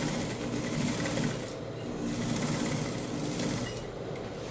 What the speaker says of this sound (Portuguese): E passo uma costura no meio dessa marcação de 1 centímetro.